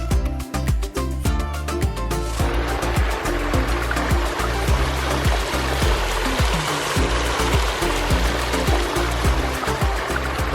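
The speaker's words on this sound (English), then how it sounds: "there's the beautiful waterfall that man created for us" A backyard koi pond waterfall pours in a steady, full rush of splashing water, close and continuous, with a few brief tonal sounds mixed in near the start.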